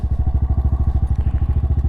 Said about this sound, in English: so this is for a rally, CRF 300L. Let it idle there for a little bit.